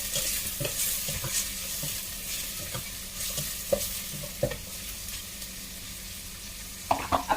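Four chicken pieces go into a pot for a malunggay rice porridge and sizzle steadily, with scattered scrapes and clinks of a spoon stirring against the pot, close and moderately loud, with no one speaking.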